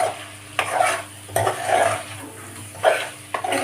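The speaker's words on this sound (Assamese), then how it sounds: "ধুনীয়াকৈ মিলাই দিম মিক্স কৰি দিম" Chicken curry with ginger, garlic and chili paste is stirred in a pot, a spoon scraping and clinking against the metal in uneven strokes over a soft background sizzle.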